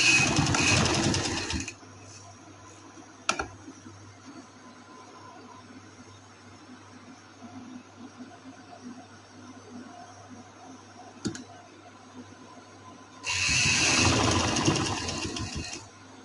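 A sewing machine stitching dress fabric: short loud bursts of rapid mechanical whirring at the start and end, with a quiet humming lull between and a couple of sharp clicks, no speech.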